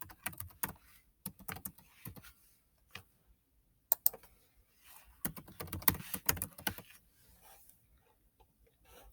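Typing on a computer keyboard while entering a password, with irregular bursts of close, light key clicks separated by short pauses and a few sharper taps.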